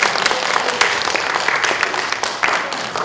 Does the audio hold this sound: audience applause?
yes